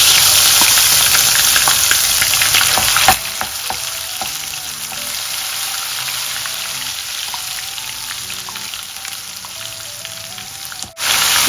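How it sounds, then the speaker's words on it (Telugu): Ginger garlic paste fries in hot oil over a tempering of mustard seeds, cumin and chilli seeds, a loud, dense sizzle that settles into a steadier, slightly softer crackle after an early shift, with no speech. "అది కొంచెం చిటపటలాడిన తర్వాత అల్లం వెల్లుల్లి పేస్ట్ వేస్తున్నాను"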